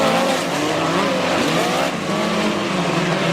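Toyota-powered midget race cars at Lake Ozark Speedway, in a POWRi National Midget League heat race. Loud, high-revving engines scream past together in a dense, continuous roar, with one car passing close.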